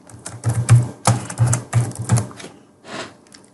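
Keys clatter on a keyboard in quick bursts of clicks, with a pause and a final short run of taps, close and fairly loud, no talking.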